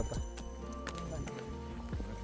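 Horse hooves clip-clop at a horse station near Rara, heard through a busy outdoor background with people talking and general noise.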